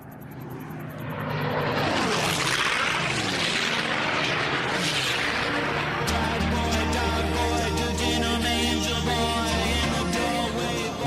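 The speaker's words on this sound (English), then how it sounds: "These planes are doing 500 miles an hour, 50 feet from the deck." Racing planes roar loudly as they sweep past at about 500 miles an hour, 50 feet up, the pitch sliding down with each pass, then a steady droning engine hum.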